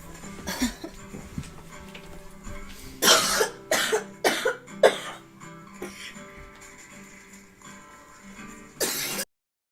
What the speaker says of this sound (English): I have to cough for a minute.